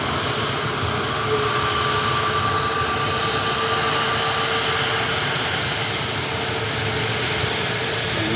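A fixed-wing airliner at Manchester Airport, a Saudia jet bound for Jeddah, roars steadily for the whole stretch as a broad, loud engine rumble with no voices over it.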